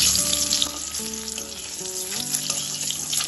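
Eggs frying in mustard oil in a pan give a steady, close sizzle with bright crackling throughout, with no talk over it.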